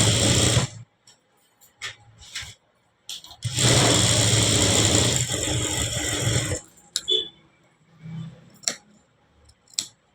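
Sewing machine stitching a blouse lining, with a few short rattling bursts and then a steady run of about three and a half seconds, close and fairly loud, followed by quieter handling clicks and taps.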